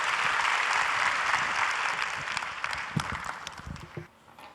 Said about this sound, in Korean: 목사님 나오실 때 뜨겁게 우리 박수로 환영하도록 하겠습니다